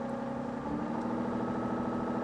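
An SCI T1 Digger excavator engine runs at a set 1600 rpm, giving a steady, even mechanical hum with a constant pitch and no talk over it.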